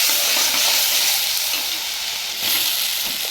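Ground spice paste hits a hot frying pan while cooking chana paneer and sizzles loudly, a dense, steady hiss close by with no voices.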